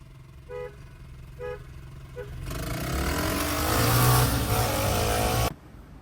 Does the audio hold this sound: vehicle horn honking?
yes